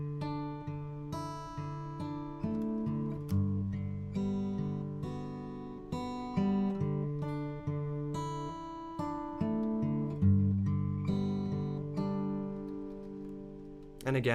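Acoustic guitar plays the intro of the hymn Lead Me to Calvary alone, a steady flowing run of plucked melody notes over sustained bass tones, close and clear with no talking.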